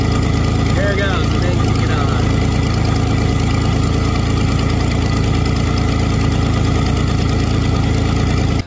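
A Pontiac Fiero idles steadily with its AC compressor running on an R134-converted system, a continuous close mid-low engine drone with faint knocking pulses throughout.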